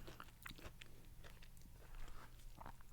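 Soft, close mouth sounds of chewing and biting into vegetarian lasagna, with small wet crunches and smacks scattered at an irregular pace, all quiet and with no talking.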